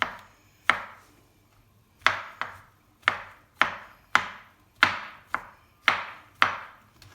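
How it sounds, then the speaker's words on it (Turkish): Knife chopping mushrooms on a cutting board for chicken tantuni, a run of about ten sharp, close, separate chops in a loose rhythm, each with a short ringing tail, no voices. "Mantarlarımı şöyle ufalıyorum."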